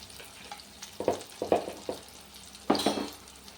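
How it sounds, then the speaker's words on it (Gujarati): Vadas deep-frying in hot oil make a faint bubbling sizzle, with a handful of brief scraping and clinking knocks from a utensil against the pan scattered across a quiet background. "અને હવે ગોલ્ડન તળી લેવાના છે સરસ."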